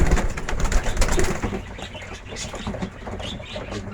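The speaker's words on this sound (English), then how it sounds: "Big bird." Racing pigeons coo and flutter after a training toss, a dense, continuous murmur of many birds nearby with no talking.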